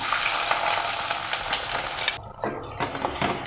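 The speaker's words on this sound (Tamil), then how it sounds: "வெங்காயம் நல்லா வதங்கினே இருக்கட்டும்" Onions sizzle in hot oil in a pan while cooking for a vegetable salna, with steady loud frying and some stirring scrapes, then the sizzle briefly drops before crackling resumes.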